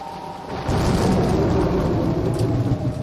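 Rolling thunder with steady heavy rain from the Umineko visual novel game, a loud low rumble swelling after a quieter start and sustained over a dense hiss of rainfall.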